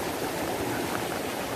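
A river stream in a Konkan village flowing as a steady, close, broadband rush of water, continuous and unbroken with no voices.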